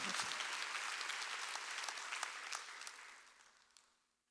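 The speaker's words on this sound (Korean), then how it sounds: "박수야." Congregation at a church Wednesday worship service breaking into loud, sustained applause that fills the room, then gradually thins and fades out over a few seconds, with no talking.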